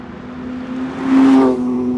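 Porsche 911 S/T engine blipping through a heel-toe downshift, a steady engine note that swells and climbs briefly in the middle before settling back, loud and close.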